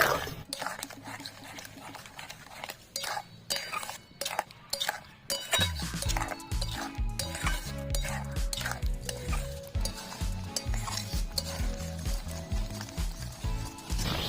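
Apples cook with jaggery and sugar in a pan for sweet-sour chutney while a spoon stirs and scrapes against the metal, a dense run of clinks and scrapes, continuous and close, over a busier rumbling bed in the second half.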